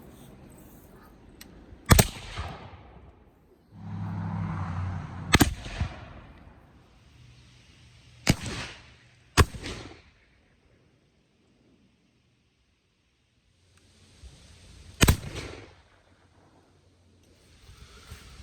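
A Berdan Sharps falling-block rifle musket fires several loud, sharp shots spaced seconds apart, each a sudden crack with a short rumbling tail, with quiet handling noises between them outdoors.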